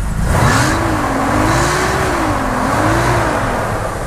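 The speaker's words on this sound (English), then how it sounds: "I'm gonna rev it up a few times." A 1977 Dodge Ramcharger's 440 big block V8 revs up and eases off in two smooth swells over a steady rumble, close by with no talking.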